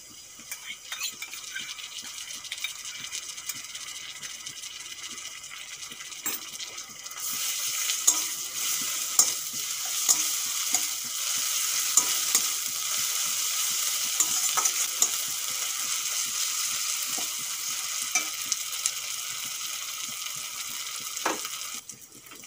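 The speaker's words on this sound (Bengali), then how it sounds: "1 চামচ আদা রসুন দিয়ে দেব।" A spoonful of ginger-garlic paste added to onions frying in oil in a kadai for a fish curry: a steady sizzle that grows louder partway through, with spoon clinks and stirring scrapes over it.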